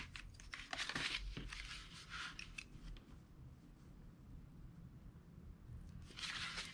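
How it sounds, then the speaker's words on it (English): Scissors snip through strips of gold washi tape laid across a stack of books, a few quick crisp cuts near the start and again at the end, soft and close in a quiet room. "Now let me trim off this excess."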